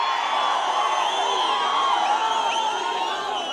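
A large crowd at a political rally in Anantapur district cheers, whoops and whistles in a sustained, fairly loud wash of voices with no single speaker standing out.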